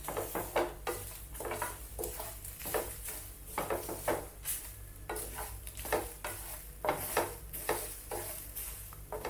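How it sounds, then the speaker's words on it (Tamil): Soya chunks (meal maker) dry-roasted in a pan with no oil, a steady dry scraping and rattling as a spatula stirs them in regular strokes, close and moderately loud with no talking. "எண்ணெய் எதுவும் சேர்க்க வேணாம், ட்ரையாகவே வறுத்துக்கோங்க"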